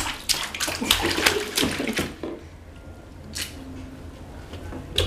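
A baby splashes in bath water, a run of loud, close splashes in the first two seconds, then quieter sloshing and dripping with one more splash near the end.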